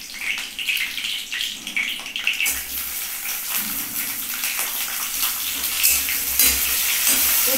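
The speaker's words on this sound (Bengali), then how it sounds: "প্রথমে আগে উচ্ছেটাকে ভেজে নিতে হবে।" Bitter gourd fries in hot oil with bay leaf, a steady bright sizzle that swells louder partway through, with scraping stirs and a faint voice in the background.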